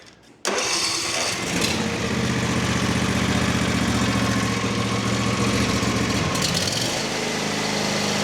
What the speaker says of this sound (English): I'm gonna turn the engine over real quick.